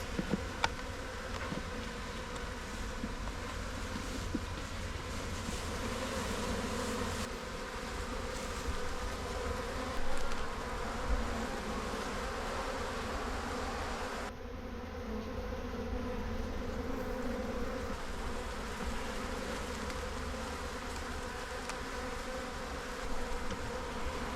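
Honeybees buzz around an open hive brood box in a soft, continuous hum that stays steady throughout, with no voices.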